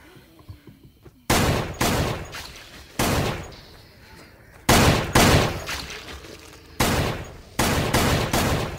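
Gunfire in the zombie shooter game Sixth Sense: loud, close bursts of rapid shots in separate volleys, each striking hard and trailing off, with short quiet gaps between them.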